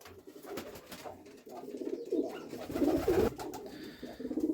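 Pigeons in a village dovecote coo in soft, repeated throaty bursts nearby, with light rustling and scuffing between calls and no talk.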